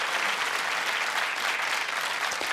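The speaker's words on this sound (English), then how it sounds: "Come on, big round of applause." Steady, dense applause from a television quiz show studio audience fills the whole moment, even and sustained without a break.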